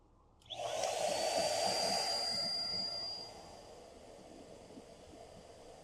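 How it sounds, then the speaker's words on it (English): A blower kicks on abruptly, roaring loudly as it feeds flour into a fire, then drops after a few seconds to a softer, steady hiss. "hit the blower"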